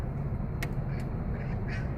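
Ducks quacking close by at an outdoor pond where people feed them, a few sharp calls over a steady low background rumble.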